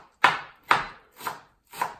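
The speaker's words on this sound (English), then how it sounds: "we chop cilantro in a little bit smaller pieces" A knife chops cilantro on a cutting board in four evenly spaced, crisp thuds about half a second apart, close and isolated with no talking.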